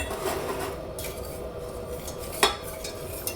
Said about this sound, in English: we're gonna stir it together